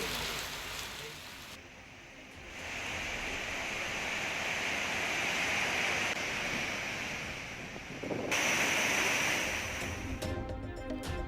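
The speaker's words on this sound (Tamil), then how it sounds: "தொடர் கனமழையால் பேச்சிப்பாறை அணையிலிருந்து 2வது நாளாக உபரி நீர் வெளியேற்றம்." Surplus water pours from the Pechiparai dam after heavy rain in a constant, broad rushing roar, with gusty wind noise buffeting the microphone and the level shifting slightly between takes.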